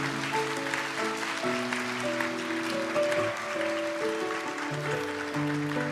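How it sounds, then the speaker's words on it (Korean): A church congregation applauds at an Alpha course graduation ceremony during a Thanksgiving service. Steady, full clapping carries on throughout, mixed with sustained instrumental music playing alongside it. "큰 박수 부탁드리겠습니다"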